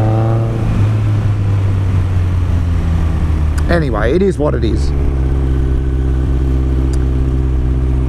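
A Honda CB1100 motorcycle rides along behind cars. Its engine holds a steady, close drone throughout, and someone talks briefly over it midway.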